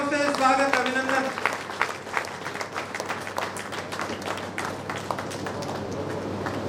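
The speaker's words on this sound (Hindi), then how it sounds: "उन्हें एक बार जोरदार तालियों से स्वागत, अभिनंदन।" An audience at a memorial disability camp claps in a loud burst of applause, with sharp individual claps standing out as music fades at the start and the clapping gradually thins.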